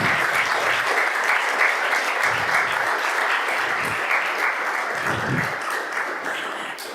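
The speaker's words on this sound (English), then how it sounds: "So please give them another round of applause." Audience at a Tobago Day debate event applauds young essay competition participants, sustained even clapping from a sizeable crowd that slowly tapers toward the end.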